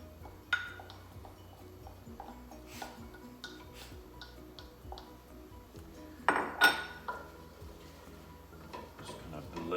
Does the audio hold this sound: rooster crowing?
no